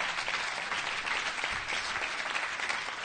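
Applause from a conference audience at a DrupalCon talk in Los Angeles fills the whole stretch, a dense, even patter of many hands clapping at moderate distance with no talk over it.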